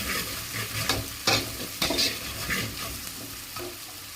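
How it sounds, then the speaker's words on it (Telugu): Ginger garlic paste hits already-fried onions in a pan and is stirred hard, giving a continuous sizzle broken by scraping spoon strokes at uneven intervals, close and clear with nobody speaking. "ఇందులోకి అల్లం వెల్లుల్లి పేస్ట్ వేసుకుందాం. వేసి బాగా పచ్చివాసన పోయే వరకు బాగా కలుపుకోవాలి."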